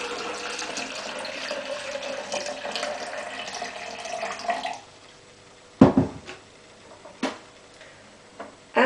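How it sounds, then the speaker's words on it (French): Lukewarm and cold water poured into a large salad bowl for bread dough, a steady running splash for several seconds that stops, followed by a few sharp knocks and clinks. "J'ajoute de l'eau tiède, 1 ml d'eau froide."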